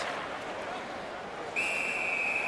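A referee's whistle sounds at an ice hockey game between the Bruins and their opponents, starting sharply midway and holding as a steady tone over a low arena murmur.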